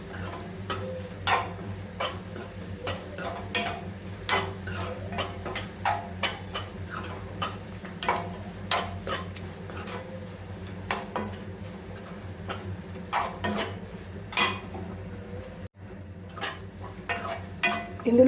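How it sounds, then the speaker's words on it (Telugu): A spoon scrapes and taps in a pan as spices with coriander powder are stirred and fried for egg biryani, making quick, irregular clicks over a low, steady sizzle close at hand. "ఇవన్నీ మిక్స్ అయ్యేలాగా మనం మిక్స్ చేసుకొని ఫ్రై చేసుకోవాలి."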